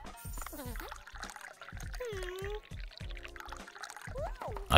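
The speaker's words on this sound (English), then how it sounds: "Look at that perfect pour." A drink is poured in the restaurant scene of the game Dave the Diver, a brief liquid pour mixed with game sounds and short bursts of talk.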